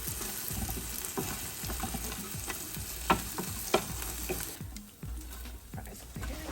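Chicken nuggets and fries cooking in a Ninja Foodi Smart XL Grill give a soft, steady sizzle with faint crackles and a couple of sharper clicks, then the sound quiets briefly before the hiss resumes at low level.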